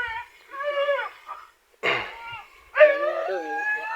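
A dog on a farm where chickens are kept gives whimpering, howl-like cries in several drawn-out bursts, close and moderately loud, separated by short pauses.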